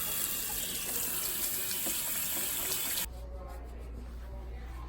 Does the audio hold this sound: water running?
yes